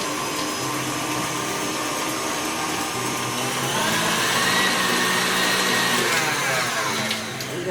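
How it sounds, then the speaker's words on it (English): Electric mixer beating eggs into coffee cake batter, a steady whirring motor drone that grows louder and busier midway, running alone with no talking. "So I'm just continuing on mixing the eggs in."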